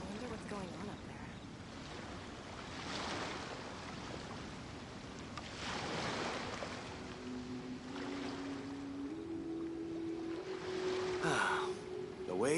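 Calm ocean waves in the video game Genshin Impact wash in a soft, continuous swell. Gentle surges rise and fall over several seconds, and a brief tonal chime sounds near the end.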